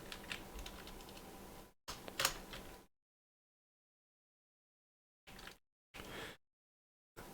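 Computer keyboard keys pressed during play of the game Fury3, quiet clattering taps in short bursts broken by long silent gaps.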